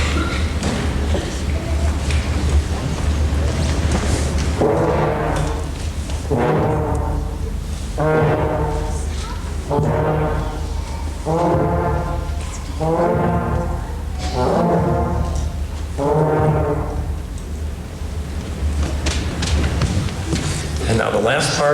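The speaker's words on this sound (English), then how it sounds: "we'll hear the trombones and the low bass drum" Trombones and a low bass drum in a fifth-grade school band concert play a simple, steady part: regular, evenly spaced brassy swells with deep drum thumps, repeated roughly every second and a half, over a full, reverberant hall.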